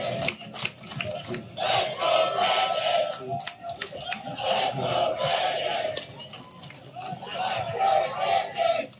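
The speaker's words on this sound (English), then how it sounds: "fist pumping as his crowd of supporters chanted, "Let's go, Brandon."" A large crowd of political supporters chants in unison at a rally, a loud rhythmic roar of many voices repeating a short phrase again and again, heard at a distance with no pause.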